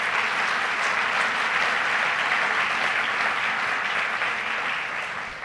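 An audience applauds at a Governor Cuomo event launching Global NY initiatives, a loud, dense and continuous ovation that holds evenly and then begins to fade, with no talking over it.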